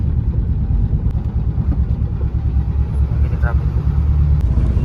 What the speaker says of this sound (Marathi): मित्रांनो इथं ट्रॅफिक लागलेलं आहे